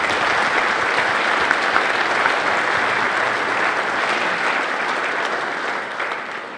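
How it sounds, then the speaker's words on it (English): Sustained audience applause for a ComSec economist at a business Q&A event, a dense, steady wash of many hands clapping that holds evenly throughout and tapers slightly toward the end, with no voices standing out. "Could I have a round of applause for ComSec's Craig Davis?"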